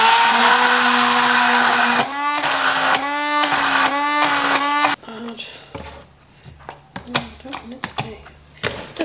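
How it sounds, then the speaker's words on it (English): A blender purees homemade baby food, letting out loud whirring bursts in a pulsing rhythm for several seconds before it stops. Clicks, clatter and a voice follow. "just follow what it does on the packet and just blend it in here"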